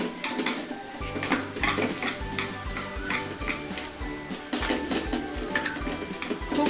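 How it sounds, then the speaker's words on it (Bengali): Ground lentil batter for ros bora beaten hard in a metal bowl, a steady rhythm of loud clattering scrapes and knocks repeating about twice a second, close and without talk. "এই বাটা ডালটাকে যত ফেটাবো ততই এটা সুন্দর ফুলে উঠবে"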